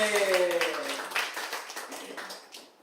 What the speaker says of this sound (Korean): 풍악과 박수로 하나님께 영광을 올리겠습니다